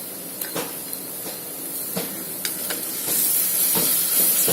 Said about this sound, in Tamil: இப்போ நம்ம இதில் இஞ்சி பூண்டு பேஸ்ட்டு சேர்த்துக்கலாம்.